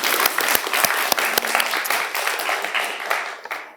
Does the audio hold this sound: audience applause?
yes